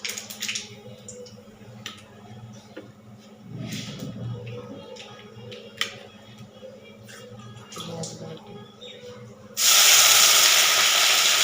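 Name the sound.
nigella seeds tempering in hot oil, sizzling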